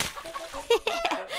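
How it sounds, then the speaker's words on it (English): A few short cartoon chicken clucks, close by, breaking through a busy mix of other voices and cartoon-like background sounds in a Peppa Pig Play-Doh stop-motion show. "it's only chickens"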